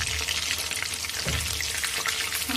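Chicken roasting in a pan over a low flame gives a steady, soft sizzle and frying crackle throughout, fairly quiet and close, with no voices.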